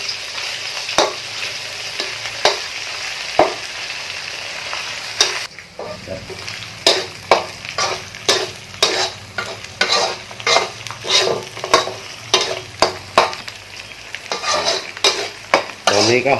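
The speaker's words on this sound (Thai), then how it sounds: "นี่พริกแกงกับกะปิ ใส่ลงไปทอดให้หอมก่อนนะครับ" Thai curry paste with shrimp paste fries in a pan for a catfish khua kling dish, a steady sizzle at first, then rhythmic scraping strokes of a spatula stirring over the crackling oil.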